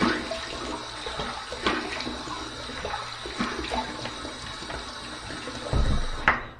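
Tap water runs steadily into a sink while the face is wetted before a shave with an adjustable injector razor, a continuous splashing rush with a louder burst of gushing near the end.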